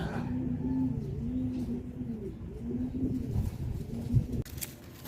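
Soft, repeated pigeon coos roll on in a steady low rhythm, close by, with faint rustling and a brief clatter near the end.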